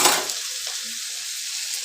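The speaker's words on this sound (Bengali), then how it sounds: "এবার সব একসঙ্গে ভালো করে ভাজা ভাজা করতে হবে" Potatoes, chopped tomato and salt fry together in a hot pan with a loud, close, continuous sizzle that bursts strongly at first, then settles into a steady hiss.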